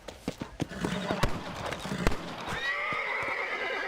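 In the game Red Dead Redemption, a horse whinnies and snorts close by while hooves clop and thud, with sharp knocks early on and a rising neigh near the end. Game voices sound faintly underneath.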